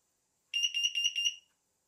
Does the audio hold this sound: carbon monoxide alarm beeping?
yes